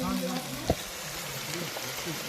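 Fenugreek bhaji frying in oil, with an even sizzle and one sharp spoon knock against the pan as it is stirred. There is faint background noise and no clear talk.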